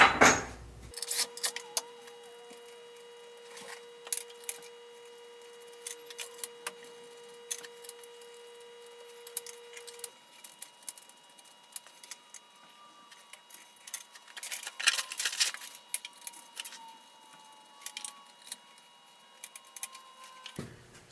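Small metal parts and plastic pieces of mock-up axles for a 1/8 scale RC monster truck being assembled by hand, with scattered close clicks, taps and light clinks over a steady faint hum, no talking.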